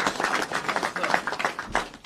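An audience at a Philadelphia gathering celebrating a passed probation bill claps in a dense, continuous patter, with voices mixed into the applause.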